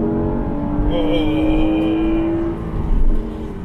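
An Acura NSX with a catback exhaust drones steadily while driving, with a rising engine tone climbing through the revs and road rumble underneath; a voice briefly exclaims near the start.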